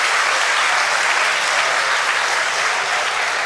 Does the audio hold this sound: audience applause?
yes